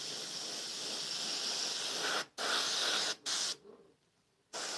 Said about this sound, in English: Spraying pretty heavy.